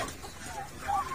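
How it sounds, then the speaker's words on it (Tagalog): Turkey chicks at a rural farm peeping softly, a few thin high chirps rising near the end over low background noise. "Mga sisiw ng pabo."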